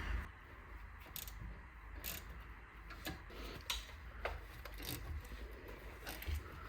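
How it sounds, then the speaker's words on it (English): Ratchet undoing a size 17 hex bolt on a Mercedes E 220 BlueTEC W212 front brake caliper, with the bolt counter-held by a spanner: a run of quiet, irregular clicks and scrapes close by, no talk. "you're gonna counter hold it with the spanner and then undo it with the ratchet"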